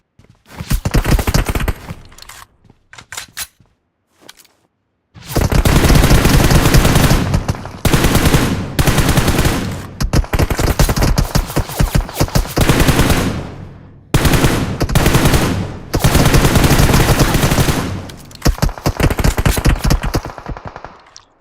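Rapid automatic gunfire from a 2v2 burst battle video game match, loud sustained bursts of several seconds separated by short pauses, with no talking.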